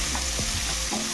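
Chopped onions fry in hot oil for an egg, cauliflower and potato curry, sizzling steadily up close with a few soft stirring scrapes of a spoon in the pan.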